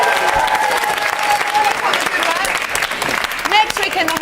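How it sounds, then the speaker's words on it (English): Studio audience applause for Simon on a live Saturday morning TV show, a loud, steady burst of clapping and cheering with voices talking over it throughout. "a quick round of applause for Simon"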